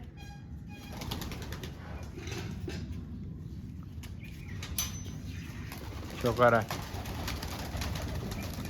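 Pigeons coo softly in the background amid rustling and a brief burst of wing flaps, while someone speaks a few words nearby.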